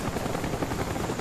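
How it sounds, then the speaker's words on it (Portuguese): A helicopter killstreak in the game Black Ops gives off a steady, dense rotor chop and engine roar, loud and continuous throughout. "meu helicóptero tá matando muito também"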